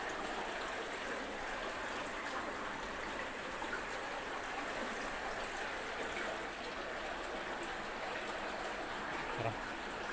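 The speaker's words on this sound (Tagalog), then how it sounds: "kumukulo yung tubig dito sa loob ng kuweba at sabi nga ito yung pusod ng dagat na matatagpuan dito sa loob ng kuweba" Seawater bubbles and churns inside a sea cave, a constant gurgling, rushing wash that stays even and moderately close for the whole stretch.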